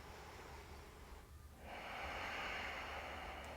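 A breath drawn during a vinyasa yoga flow, a soft exhale followed by a fuller, rising rush of air through the nose, close and quiet with no talking.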